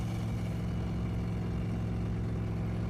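A V8 engine swapped into a turbocharged Subaru Forester with an automatic gearbox drones steadily inside the cabin, a low continuous hum with no breaks or clear revving.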